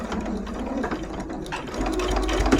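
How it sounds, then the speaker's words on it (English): A domestic sewing machine stitches fabric for a bowl cozy, running steadily with a continuous close whirring and rapid mechanical chatter throughout. "I'll back stitch here."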